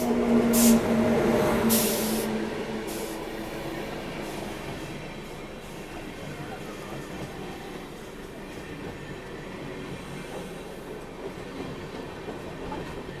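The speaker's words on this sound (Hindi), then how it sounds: "पहले आप देखिए गोल्डन टेम्पल मेल का ओवरटेक" The Golden Temple Mail train overtaking, a loud rushing rumble of passing rail cars with a brief sharp burst early on, then a sustained rolling roar of wheels on track.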